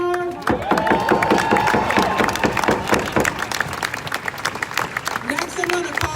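A rally crowd in Minneapolis claps and cheers loudly, with rapid rhythmic clapping up close, whoops and voices mixed in, and a drum-like beat at the start before the applause thins out.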